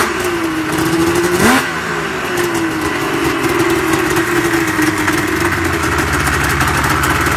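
A 2000 Yamaha SRX 700 snowmobile with a DG aftermarket exhaust can idles steadily and close by, a low, even burble with one brief blip of throttle partway through, and no talking.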